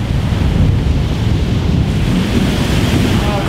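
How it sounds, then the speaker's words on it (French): Wind buffets the microphone in a constant low roar at the beach, mixed with the wash of surf nearby; no one speaks. "il y a un peu de vent"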